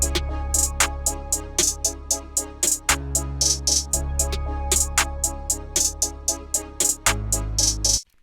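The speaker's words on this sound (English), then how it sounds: "So that's basically the whole hi-hat pattern." Crisp, rapid hi-hat hits tick in a steady pattern with quick rolls, riding over deep bass and a melodic loop in a trap beat.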